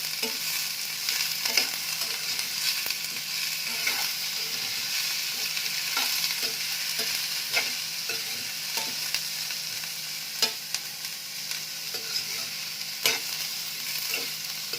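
Cabbage with green, yellow and red capsicum frying in a pan, a steady crackling sizzle broken by regular scraping stirs of a spatula, close and continuous with no talk.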